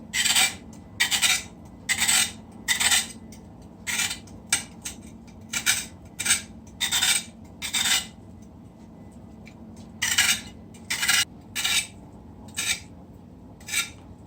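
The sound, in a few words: scraping a carrot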